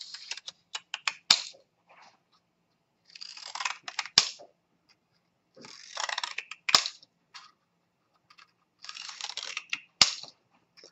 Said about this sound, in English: So I'm just going to roughly cut these about an inch.